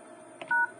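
A single short telephone keypad beep as the pound key is pressed on a phone after a feature code, a clean close tone following a faint click over quiet background.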